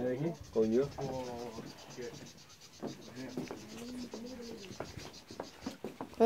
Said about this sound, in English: those birds are going pretty crazy.